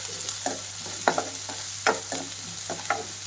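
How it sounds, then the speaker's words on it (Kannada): Onions stirred and frying in oil in a pan for palak paneer, with scraping stir strokes roughly every half second over a faint steady sizzle and a low hum, close and alone with no talk. "ಇದು ಸ್ವಲ್ಪ ಬ್ರೌನಿಷ್ ಆಗೋವರೆಗೂ ನಾವು ಇದನ್ನ ಎಣ್ಣೆಯಲ್ಲಿ ಸ್ವಲ್ಪ ಫ್ರೈ ಮಾಡ್ಕೋಬೇಕಾಗುತ್ತೆ"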